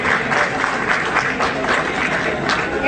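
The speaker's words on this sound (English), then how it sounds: "Thank you very much for the clapping, but I don't deserve that." Audience at a training session clapping, a dense steady round of applause from a room of people, close and continuous for a few seconds.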